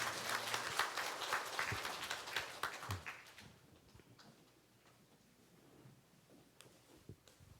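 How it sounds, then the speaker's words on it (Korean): Congregation at a Korean Presbyterian church service applauding during an ordination thanksgiving ceremony: a loud burst of scattered hand clapping that fades after about three seconds into quiet room tone with a few faint taps. "박수로 축하해 주셨으면 감사하겠습니다"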